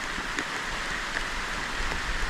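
Rain falls steadily as a continuous, even hiss with scattered faint drops ticking through it, moderately quiet and unbroken.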